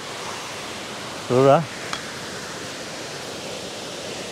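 Steady, broad rush of a waterfall in Canada plunging a long way, constant and even throughout, with a brief spoken word partway through.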